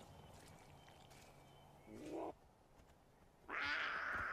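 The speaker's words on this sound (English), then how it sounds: "Nice cat." Two short meows from a cat companion in the video game Far Cry 5, a lower call near two seconds and a brighter, louder one near the end, over quiet ambient game sound.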